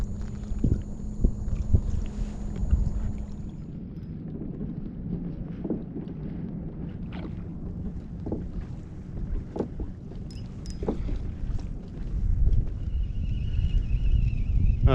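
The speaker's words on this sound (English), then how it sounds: "that wind seems to be backing off a little bit now" Wind gusts buffet the microphone on open water during a boat fishing trip for squid, a continuous rushing roar with lapping water and a few knocks from the boat, loud and close, swelling again near the end.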